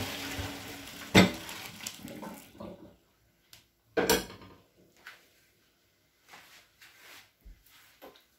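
Spaghetti water is drained from a cooking pot with splashes and pouring, then metal clanks as the pot is handled and quieter drips and bumps follow at close range.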